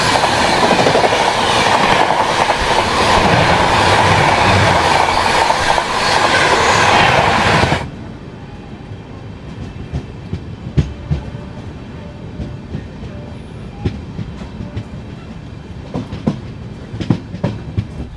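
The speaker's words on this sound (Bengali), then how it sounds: "আর এইদিকে ট্রেন চলছে" The Howrah Kalka Netaji Express runs toward Kanpur, a loud close rumble with rhythmic wheel clatter that suddenly drops to a much quieter interior hum with scattered clicks and knocks.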